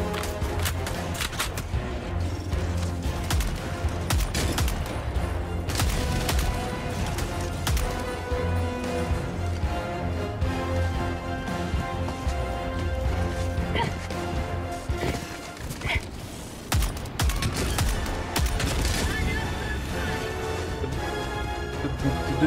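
Gunfire and rocket-launcher blasts from the video game Helldivers 2 crash and thump irregularly in a dense, continuous battle din of impacts and explosions, with scattered sharp bursts and a faint voice now and then.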